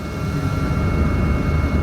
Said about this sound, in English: Just outside of New Orleans, we board the helicopter.